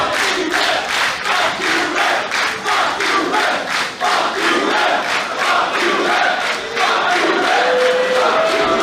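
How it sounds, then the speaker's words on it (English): A Singapore wrestling crowd at an AIWF show jeers the referee, a loud, continuous wall of shouting and booing with rhythmic swells of chanting that stays dense and unbroken throughout. "The Singapore crowd having a go at the ref"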